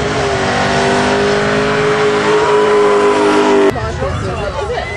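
A 1999 Corvette with a six-speed transmission revs hard at a burnout contest in Stockton, a loud sustained high-pitched engine scream that cuts off abruptly, followed by a crowd and an announcer's voice.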